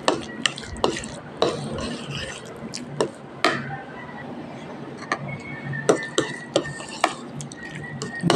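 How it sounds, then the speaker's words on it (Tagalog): Ingredients are mixed in a bowl with a utensil, making a fast run of clicking, tapping strokes and scrapes against the sides. A person talks over the mixing throughout. "Mix natin mabuti guys para ma-mix yung mga ingredients natin"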